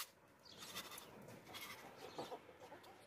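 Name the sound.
goat bleating, a castrated two-tooth sacrificial goat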